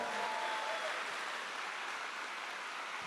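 A church congregation applauds during a Mass, a soft, even hiss of many hands clapping at a distance, steady for a few seconds with no voices standing out.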